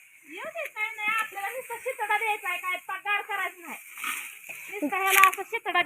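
Water splashed by hand outdoors in a rural setting, a few splashes scattered through steady talking by adults and a child.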